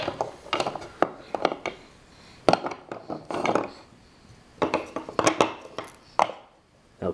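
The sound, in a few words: stirring food in a pot with a utensil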